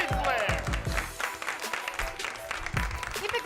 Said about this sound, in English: A big round of applause for Paige Blair.